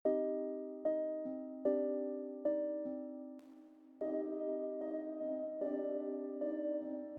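Dry synth melody one-shot programmed in FL Studio with no reverb, a dark ambient trap-style lead playing sustained harmonic notes in a slow stepwise line, each note attacking cleanly and decaying without tail, alone and fairly quiet.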